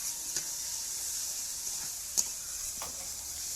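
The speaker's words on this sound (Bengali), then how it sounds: "এবার দিয়ে দিচ্ছি কুচনো টমেটো। টমেটোটা দিয়ে আরও কিছুক্ষণ এটাকে কষতে হবে।" Chopped tomato frying in onion masala for a duck egg curry, a steady soft sizzle and hiss in the pan with a few faint stirring clicks, close and even, no talk.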